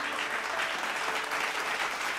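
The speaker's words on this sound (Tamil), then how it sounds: "கைத்தட்டு கொடுத்தவருக்கு" An audience at a church service applauds steadily, a dense patter of clapping at moderate distance with no talk.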